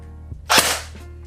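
A Snow Wolf M41A airsoft pulse rifle fires a single sharp, close shot, a short bright crack that falls away quickly into quiet.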